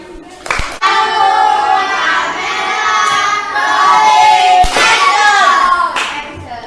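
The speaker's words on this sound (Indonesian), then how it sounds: "Kasih tepuk tangan" A sixth-grade class claps together in a classroom lesson, bright hand claps mixed with children's raised voices chanting along, loud and close throughout.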